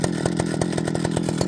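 A 55 cc Partner Farmer chainsaw idles close by, its engine throbbing in a quick, steady rhythm of pulses throughout.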